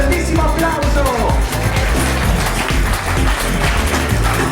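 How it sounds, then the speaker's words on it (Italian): Audience applause at the Miss Alpe Adria International 2016 beauty pageant: a loud, dense, steady wash of many hands clapping, with faint music underneath near the start. "Ringraziamo le nostre ragazze e vi facciamo un grandissimo applauso!"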